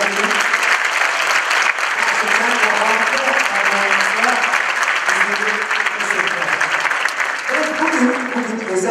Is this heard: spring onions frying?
no